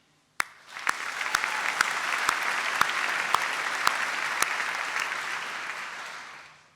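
Applause at a university graduation ceremony begins abruptly and holds steady for several seconds, a dense crowd of clapping with a few louder sharp claps standing out, then fades at the end.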